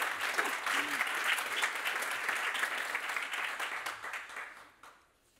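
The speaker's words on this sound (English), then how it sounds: "You can applaud." Panel audience at a culture forum applauds steadily for about four and a half seconds before the clapping fades out.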